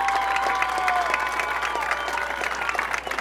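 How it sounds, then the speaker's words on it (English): A crowd in a high school gym applauds and cheers, honoring a coach's championship record. Sustained clapping is heard under a faint whistle-like tone, and it fades slightly toward the end. "That in and of itself is worth a round of applause."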